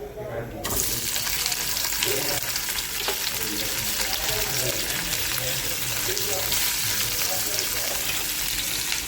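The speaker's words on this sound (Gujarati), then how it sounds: "ગેસ ચાલુ કરીને પહેલાં આપણે પનીરને ફ્રાય કરી દઈશું" Paneer frying in a pan on a gas stove, a loud, steady sizzle that starts abruptly and holds throughout, with faint clinks from the cooking.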